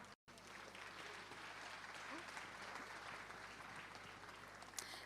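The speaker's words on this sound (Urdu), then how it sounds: "آپ کی بھرپور تالیوں میں تشریف لاتی ہیں" Steady, sustained audience applause fills a hall at a fundraising event in Slough, dense and even throughout with a brief dropout at the start and no voices standing out.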